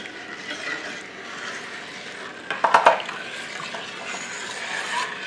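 Peach pit and peach peel jelly being stirred in a pot, a steady soft scraping and bubbling with a brief cluster of louder clinks and scrapes near the middle, close by with no talking.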